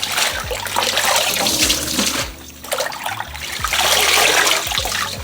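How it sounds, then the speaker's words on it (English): Water sloshing and splashing as leafy greens are swished back and forth in a sink of water for rinsing, close and fairly loud, continuous with brief lulls, no talking. "We're gonna rinse them back and forth."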